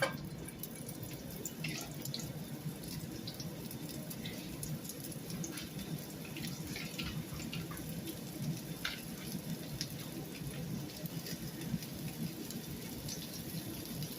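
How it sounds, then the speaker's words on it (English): Onions sauteing in olive oil in a preheated skillet give a quiet, steady, close sizzle and crackle, like light rain, continuing evenly throughout without talk. "I'm going to saute some onions"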